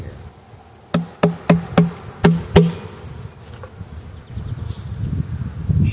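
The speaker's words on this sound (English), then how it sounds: "Shake them out in front of the hive here and just move these boxes on away." Honey bees from an overwintered nuc being shaken out in front of a hive: six sharp knocks of a box in a quick series, then a rising buzz of many bees close by.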